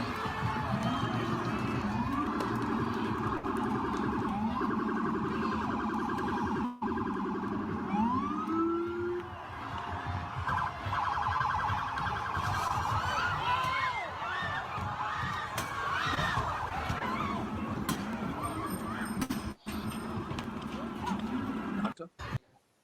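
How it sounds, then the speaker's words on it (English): A police car siren wails on a New York City street, loud and continuous, cycling through rising and falling tones for most of the stretch before breaking off into other street noise. "I'm gonna bring that clip up again from New York City with a police car came into it"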